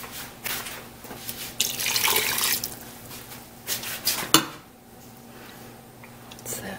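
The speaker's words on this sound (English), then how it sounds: "now I'm gonna put some water in here" Water pours into an Instant Pot holding chili ingredients and canned whole tomatoes, a steady splashing run with brief clinks and louder bursts, close and moderately loud.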